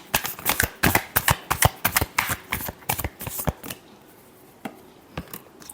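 Tarot cards shuffled by hand: a quick run of crisp, close flicking riffles for about four seconds, then a few isolated soft taps as the deck settles.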